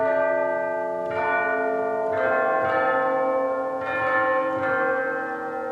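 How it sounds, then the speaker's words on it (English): Tubular bell tower chimes played on a church organ, ringing in overlapping sustained tones with several fresh strikes every second or so, loud and reverberant with no voices. "That's tubular bell tower chimes."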